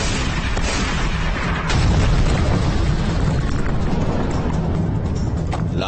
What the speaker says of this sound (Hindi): पोरसा के जंगल बंदूकों की गोलियों की आवाज से गूंजने लगी।